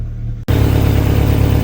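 VW Lupo engine running with its exhaust middle section blowing and leaking, a loud, steady, close-up rumble that starts abruptly after a brief quieter hum.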